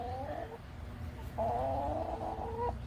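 Chickens cluck and murmur in short bursts, a couple of drawn-out calls close by over a low background hum.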